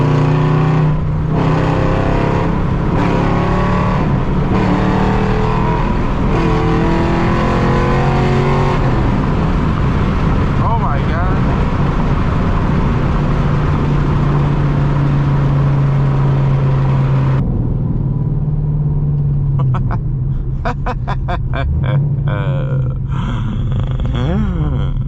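A 500 hp Dodge Hellcat engine revs loudly and continuously up close, with a steady low drone broken by throttle blips, crackles and pops, sometimes with the rumble of the car passing.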